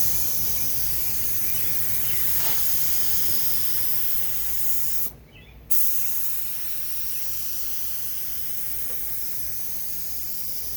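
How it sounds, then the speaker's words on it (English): Steady hissing spray of Rust-Oleum paint laid on as a light first coat, continuous and close, with a brief pause midway before the spraying resumes. "Now I'm going to apply the first layer of paint."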